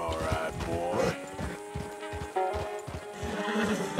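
A spooked horse neighs and whinnies in the Red Dead Redemption 2 video game, its harsh, wavering cries running nearly nonstop at close range with soft hoof clatter underneath.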